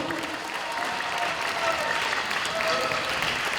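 A large audience at a Korean political gathering breaks into sustained applause for a lawmaker, a dense, even wash of many hands clapping close and loud for the whole stretch.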